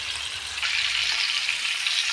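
Bata fish fry lightly in hot oil in a pan, giving a close, continuous sizzling hiss that swells slightly partway through.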